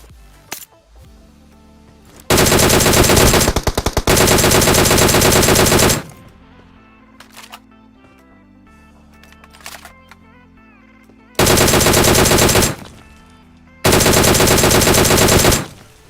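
Automatic weapon fire in the PUBG battle royale video game, loud sustained bursts of rapid shots in long strings separated by short gaps, with faint in-game clicks and ambient sound between bursts and no talking.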